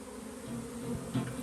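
Honey bees buzz around a hive box in a steady, close, droning hum that swells slightly toward the end, with no voices.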